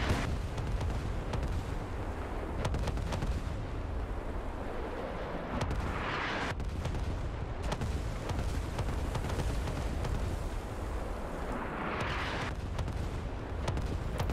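Artillery fire in the video game Squad rumbles steadily, with dull distant booms and bursts rolling over a constant low battlefield roar and no talk.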